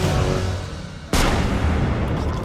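A single sharp gunshot cracks loudly in the middle of the action in Assassin's Creed Brotherhood, a sudden burst followed by a lingering noisy tail over a steady low background.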